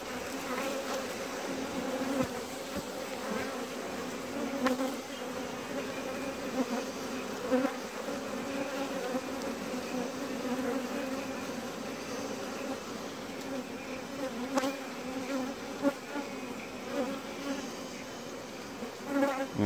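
Honey bee workers buzz densely and continuously at close range as they ball their queen, a steady droning hum with brief louder swells.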